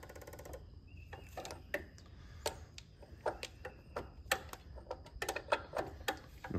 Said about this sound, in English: Now, put the wrench on.